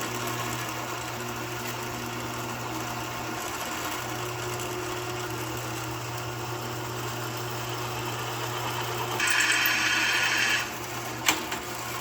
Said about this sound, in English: Let me get this set up on the drill press, and we'll go to drilling them out.